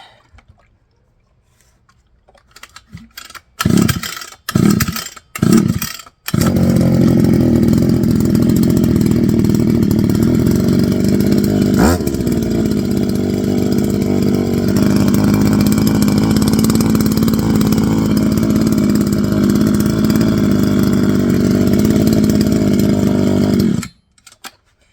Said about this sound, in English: The smell of a brand new 2-stroke engine running never gets old.